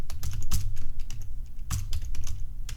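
Fast, continuous typing on a computer keyboard as a website address is entered, dense clicks with a few louder key strikes, close-up and steady with no speech.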